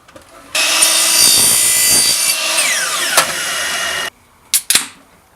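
A PVC spacer for a DIY stir plate is sawn through in one steady stretch of about three and a half seconds, then two short scraping rasps follow after a pause. The cutting is close and loud, with no talking.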